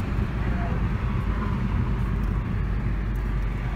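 A Fiat Egea Sedan fitted with a performance system rolls along with the throttle released, giving a low, steady engine and road drone heard from inside the car.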